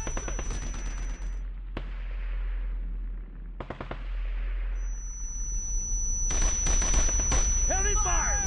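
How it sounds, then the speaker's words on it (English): Heavy machine gun fire in the WWII shooter Brothers in Arms: several loud bursts of rapid automatic fire, the last ones denser and overlapping, with a high whine and shouted voices near the end. "Heavy fire, right there."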